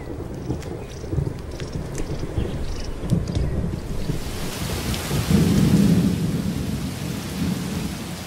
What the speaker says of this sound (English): Thunderstorms may be brief here, but they often presage long rainy spells.